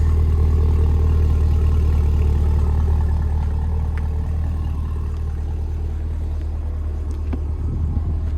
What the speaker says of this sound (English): And of course, a lovely exhaust note.